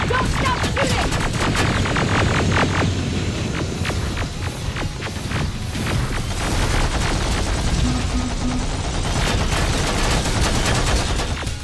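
Gunfire in the shooter Terminator: Resistance, with sustained rapid shots and bursts crackling throughout a busy firefight and continuing at a steady loud level.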